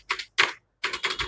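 Key clicks from a cheap local rainbow-backlit keyboard, typed in four quick bursts separated by short pauses, close and crisp with no talking.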